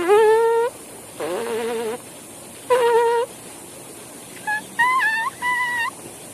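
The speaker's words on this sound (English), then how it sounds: "Just an easy lip buzz." A trumpet player's lips buzz without the horn, a series of pitched buzzing tones sliding and stepping up and down, some long and some short bursts, close and moderately loud with quiet gaps between.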